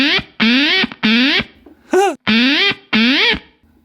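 Electric guitar run through a fuzz effect, picking out a video game theme in short, bright, sustained notes with brief gaps, loud and close.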